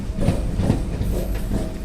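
A MEMU passenger train pulls into a railway station on the Chittoor–Tirupati line, its steady low rumble and wheel clatter continuous and fairly loud throughout.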